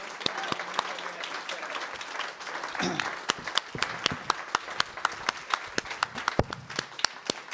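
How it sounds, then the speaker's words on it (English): Audience applause follows a faculty presentation: a fairly quiet, distant-sounding patter of individual claps that thickens and carries on for several seconds as a clear rhythm of separate hand claps. "Let's have another big round of applause for Sarah Schulman and Forrest Williams."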